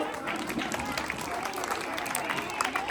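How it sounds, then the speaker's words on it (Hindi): A crowd at a children's fair on Children's Day claps to welcome a local leader, Rajendra ji, a continuous patter of many hands at a distance, fairly faint and mixed with talk. "हमारे मंडल के भोजपुरी मंडल अध्यक्ष और हजारों और संघर्षी नेता आदरणीय राजेंद्र जी का जोरदार तालियों से स्वागत करें"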